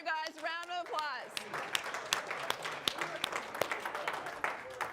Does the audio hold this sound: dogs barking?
no